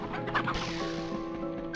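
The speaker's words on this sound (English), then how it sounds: "No, it's just chickens." Chickens cluck steadily in the video game MediEvil, a close, continuous clucking with no talking over it.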